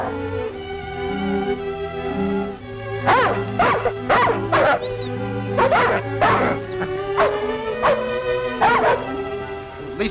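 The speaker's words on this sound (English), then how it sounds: "At least we've got our dog team." Sled dog team barking in an old 1938 Yukon adventure film, a run of loud, close barks and yips in irregular bursts over a steady hum, with whimpering between, and no talk.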